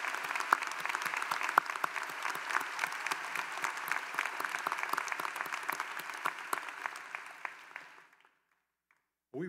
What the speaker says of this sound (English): Won't you join me in another round of applause for Jim Heekin and the great address